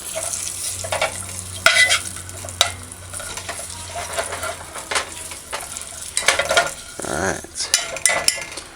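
Ingredients sizzle in hot oil in a pan on a stove while a utensil stirs and scrapes against the metal, with occasional clinks over a steady background frying hiss.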